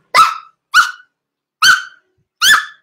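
A human voice imitates a dog barking at a distance, giving four separate sharp barks with short pauses between them.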